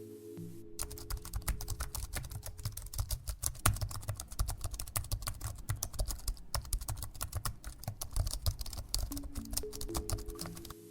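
Steady fast typing on a computer keyboard, a dense run of light clicking keystrokes over a low background hum, with no talk.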